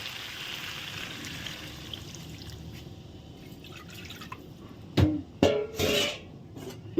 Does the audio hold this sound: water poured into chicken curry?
yes